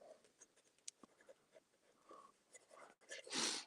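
A fountain pen nib scratches across paper in short, faint strokes, soft and close, separated by brief pauses and a louder rustle at the end.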